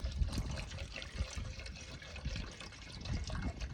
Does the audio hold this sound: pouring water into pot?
yes